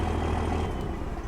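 A custom show truck backs up in the video game Farming Simulator 19. A steady, close diesel drone rumbles with broadband noise and no talk over it.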